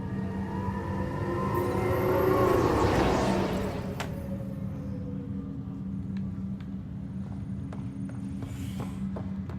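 Tram ride in the video game Mass Effect Andromeda: a steady low hum runs throughout, with a rising whoosh swelling around two to three seconds, then settling into a continuous rolling drone with faint ticks.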